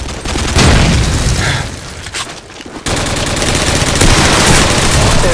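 Skorpion and Uzi submachine guns fire in Call of Duty 4 team deathmatch: loud, rapid bursts of automatic gunfire with booming reports, broken by a brief lull.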